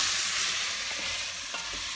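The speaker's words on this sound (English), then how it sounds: "Give that a stir." Garlic being stirred in a hot pan for vegetable soup, a loud continuous sizzle and hiss with faint scraping of the spoon underneath.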